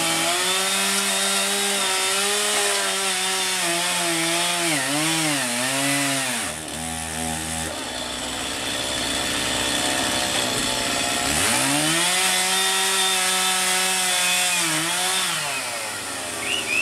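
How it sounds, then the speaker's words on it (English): A chainsaw roars steadily, its engine pitch dipping and rising as it bites into wood, with a brief lull before revving back up, loud and close. "Step away from the saw. Put the chainsaw down."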